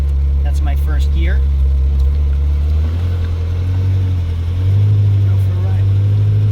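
A Ferrari 360 pulls away in first gear with a deep, steady engine drone that swells slightly partway through, and a voice can be faintly heard alongside it.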